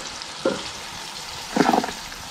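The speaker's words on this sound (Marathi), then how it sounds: "आता आपल्याला हा रवा टाकायचा, बघा कसा भाजलाय बघा, हां असं भाजून व्यवस्थित घ्यायचं आणि असा हा तुपात फिरवायचा" A spoon stirs semolina roasting in ghee for sheera prasad in a pan, two distinct bursts of scraping and sizzle over a quiet low background.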